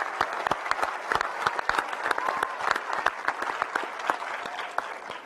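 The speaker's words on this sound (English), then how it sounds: "Let's do another round of applause for everyone." Steady applause from an audience at a spacesuit prototype reveal, dense rapid clapping sustained throughout without letting up, fairly close and even in loudness.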